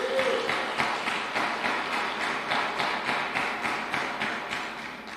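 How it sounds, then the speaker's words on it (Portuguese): A church congregation applauds during a sermon about communion, with a steady, dense patter of hand claps that keeps up throughout and slowly fades toward the end. "Pode aplaudir com fé."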